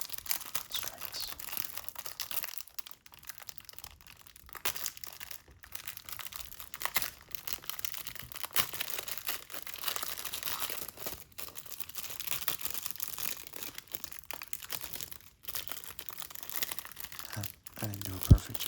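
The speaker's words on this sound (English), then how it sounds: "Let's go and get started by unwrapping the Batman" Plastic wrapper on a Batman Strikes comic book crinkles and tears steadily as it is unwrapped up close, a dense soft rustle running throughout with a sharper crackle near the end.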